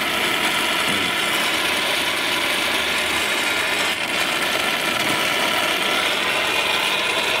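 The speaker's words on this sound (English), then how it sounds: "Basically, you pump down, it creates a vacuum, and then there's a whole array of little hoses and stuff." A hand-operated vacuum oil extractor pump draws engine oil out through the dipstick tube of a Subaru. A steady, close mechanical ratcheting and hissing runs continuously without a break.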